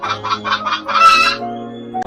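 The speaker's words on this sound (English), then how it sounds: "H is for hen." A hen clucks in a quick series of four or five short, bright calls, then a louder drawn-out squawk, with a thin whistle-like tone trailing after; close and clear with no voices.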